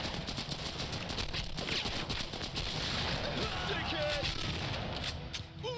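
Enemy gunfire in The Punisher on PlayStation 2, a dense stream of rapid shots and impacts running throughout at moderate level, mixed with game noise.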